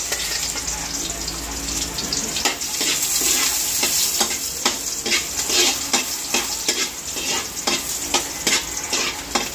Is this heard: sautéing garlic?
yes